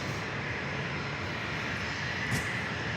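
A Southwest airliner arriving at San Diego airport gives a steady, broad engine roar that holds evenly throughout at moderate distance, with one brief sharper whine near the end.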